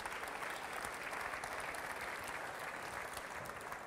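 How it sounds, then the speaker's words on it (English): Steady applause from a conference audience at a travel trends report presentation, dense and continuous as panelists come on stage, filling the room evenly without a break. "Give them a round of applause,"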